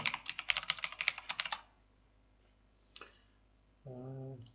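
Fast, close key taps on a computer keyboard come in a quick burst as a root password is entered, then stop, followed by a soft click and a brief hum.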